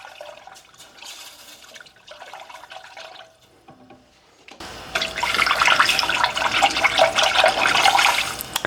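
Two cups of milk pour into a pan with a steady liquid splashing and gurgling, close and moderately loud, following a few seconds of quiet kitchen clatter.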